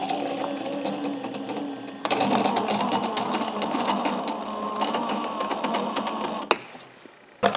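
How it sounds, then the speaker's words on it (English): A small electric motor with a dirt-worn bushing whirs steadily for several seconds after starting up, then cuts off abruptly, followed by a couple of clicks. "I'm just going to barely run this motor"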